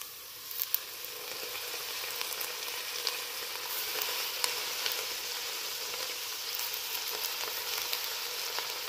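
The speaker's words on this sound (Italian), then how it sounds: "Adesso aggiungiamo il cavolo nero." Black kale (cavolo nero) sizzles steadily in a hot pan for a lentil soup, a dense continuous hiss with small crackles and pops throughout, fairly close and with no voices.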